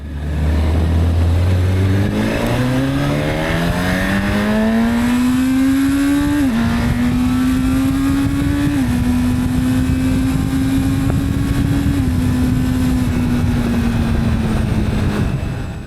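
A Honda CB1000 Hornet motorcycle engine revs up steadily from a low idle past 4000 rpm to a high, loud, sustained whine, then holds near that pitch with small dips.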